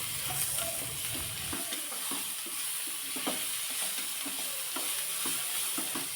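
Onion and tomato sautéing in a pan, a soft continuous sizzle broken by repeated scraping and stirring strokes, close and fairly quiet with no voices.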